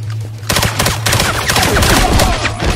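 Dense bursts of automatic gunfire in a James Bond 007: Blood Stone firefight in Monaco, rapid overlapping shots starting abruptly and continuing steadily and loudly over a low steady hum.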